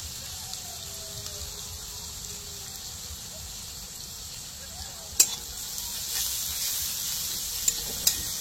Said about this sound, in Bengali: পেঁয়াজ আর রসুনটা একটু ভাজা হয়ে যাক।